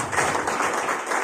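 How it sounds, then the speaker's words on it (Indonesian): Church congregation clapping during an Indonesian Sunday evening service, a dense, steady wash of many hands filling the room without pause over the short stretch. "Haleluya, tepuk tangan."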